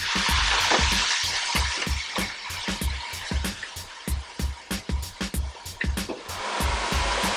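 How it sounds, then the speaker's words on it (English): Hot pan being deglazed with white wine while making cream of mushroom soup, giving a broad steady sizzle and hiss with repeated clattering stirs and scrapes in the foreground. "We are going to deglaze this with some white wine."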